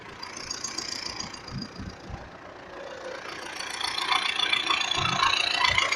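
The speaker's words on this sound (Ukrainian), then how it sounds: "Це на холостих обертах." The diesel engine of an MTZ-80 tractor idling nearby after repair, a steady rumbling chug with a mechanical clatter, growing slightly louder toward the end.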